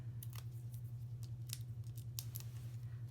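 Scissors snip repeatedly through paper scraps for a greeting card, a series of short crisp cuts at an uneven rhythm, close up over a low steady hum, with no talk.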